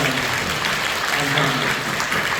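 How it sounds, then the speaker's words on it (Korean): A church congregation at a Thanksgiving service applauds steadily, dense clapping filling the room at full volume, with voices mixed underneath. "서로 격려하고 축하하고 또 사랑한다고 박수 한번 해주세요"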